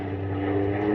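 Steady propeller airplane engine drone for an old-time wartime radio drama, as a pilot rolls the plane onto its back; a continuous, fairly loud hum with low harmonic tones, heard alone without speech.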